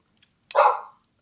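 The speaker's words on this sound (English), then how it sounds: "Someone's got a puppy. Woof." A puppy lets out one short, sharp bark over an online video call, fairly close and loud, followed by quiet.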